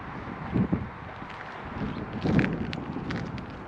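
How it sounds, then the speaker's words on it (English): Wind gusts of about 15 to 25 mph buffet a GoPro Hero 8 Media Mod microphone, giving low rumbling bursts over a steady breezy hiss, with two stronger thumps of buffeting. "we'll wait for another quick wind gust"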